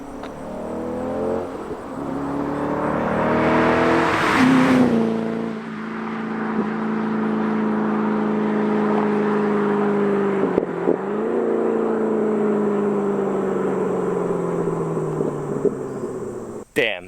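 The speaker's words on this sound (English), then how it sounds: "He's gonna come around and do a flyby here, so let's see how it sounds on open throttle." A Chevrolet C5 Corvette with an LS1 V8 and Billy Boat Bullet axle-back exhaust roars past at open throttle, building to a loud peak near the middle before the drone fades as it pulls away.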